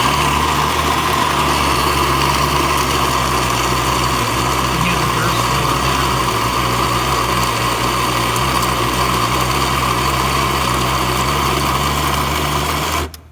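A Baratza Vario coffee grinder grinds fine after a full tune-up, a loud, steady, high motor whine with a buzzing drone, running unbroken for many seconds before cutting off abruptly at the end.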